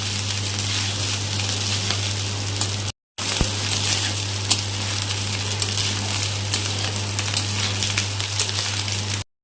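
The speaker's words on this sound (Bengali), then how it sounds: "আঁচটা কমিয়ে নিয়ে ভেজে নিতে হবে" Food frying on low heat in a pan for an Indian lunch box dish, a steady close crackling sizzle with a constant low hum and one brief cutout.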